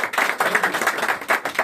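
Audience clapping for RCM during a Hindi network-marketing plan seminar, a steady dense patter of many hands with small surges, continuous through a short stretch and fairly close.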